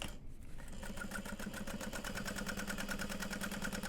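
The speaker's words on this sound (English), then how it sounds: "And top stitching through the bulk." Sewing machine top stitching through the bulky layers of a tote bag, running in a steady, fast, even rhythm with a continuous motor hum throughout.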